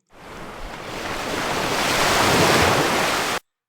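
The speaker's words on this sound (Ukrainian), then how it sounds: "А Ocean Wave." Ocean waves from a sound-effects library: a steady, loud broadband wash of surf that swells gradually over a few seconds and then cuts off abruptly, with no voices.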